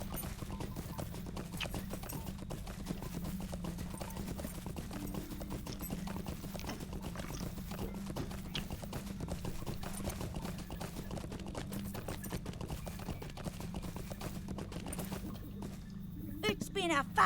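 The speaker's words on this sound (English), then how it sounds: "We'll jump on our horse and head back to Adelina." Horse hooves clip-clopping at a steady, even pace while riding in the Lord of the Rings Online video game, a continuous close rhythm running throughout with speech over it.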